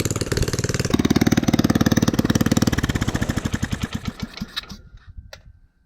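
A small go-kart engine, just back together after its carburetor was cleaned and its idle screw turned up slightly, chugs at a steady idle. The close, even putter slows into separate thumps and then cuts out.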